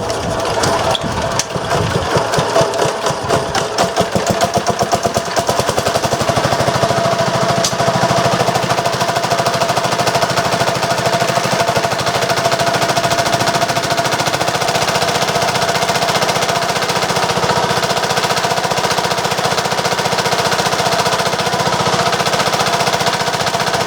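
A 750-watt diesel generator cranks with rapid uneven chugging, then catches and settles into a loud, steady close-up engine drone that runs on alone.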